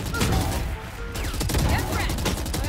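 Rapid gunfire bursts crackle in the shooter video game Valorant, dense overlapping shots heard close and loud alongside excited talking from players.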